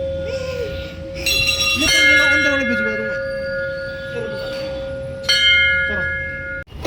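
A bell at Khatu Shyam temple rings with long, sustained metallic tones, struck again partway through, while faint voices murmur underneath.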